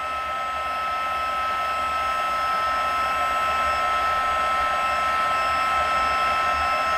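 A handheld heat tool blows hot air over embossing powder on a swing-fold greeting card, giving a steady, close, unbroken electric whir with a fan hum and a high whine, heard alone without any voices.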